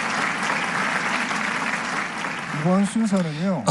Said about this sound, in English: Let us give Kim Deok-soo's Samonori team another round of applause.